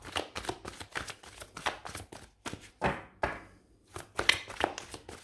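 Cards being shuffled and drawn by hand for a card reading: close, soft riffling and flicking with light taps and thumps as cards are laid down, in an otherwise quiet room.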